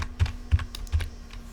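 Keys on a computer keyboard clack three times at an even pace while HTML code is written, each press crisp and close, with no talking.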